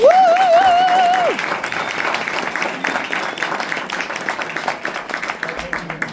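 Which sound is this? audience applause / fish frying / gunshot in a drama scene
audience applause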